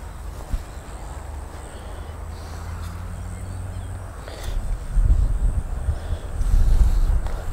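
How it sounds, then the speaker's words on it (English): Wind blows outdoors in steady gusts, buffeting the microphone with a low rumble that swells louder toward the end, with no voices. "A lot of wind."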